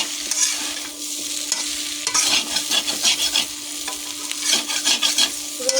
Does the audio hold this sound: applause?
no